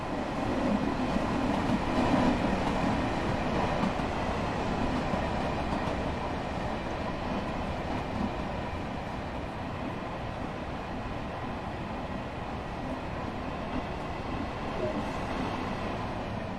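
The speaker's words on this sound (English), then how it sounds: "You are currently riding an M7 electric multiple unit formed of 4 A and B coach pairs." Interior ride noise of an M7 electric multiple unit made of four A and B coach pairs in Train Sim World 2020, a steady broadband rumble and rail roar with faint motor whine, continuous throughout with a narrator's voice over it.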